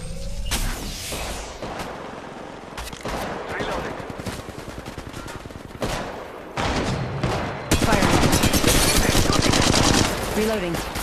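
Gunfire in the mobile battle royale game Apex Legends Mobile: bursts of rapid automatic shots in clusters, the loudest and densest volley near the end, with a voice speaking briefly in between.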